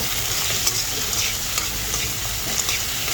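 Vegetables with tomato stir-frying in a hot pan for a Filipino sinurambaw dish with bitter melon, giving a steady close sizzle with soft scraping stirs throughout and no talking.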